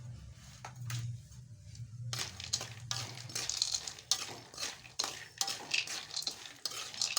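A spoon stirs peanuts being tempered in a hot pan, scraping and rattling in repeated short strokes, close and fairly quiet over a low background hum.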